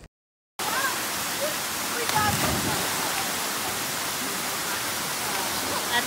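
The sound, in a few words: waterfall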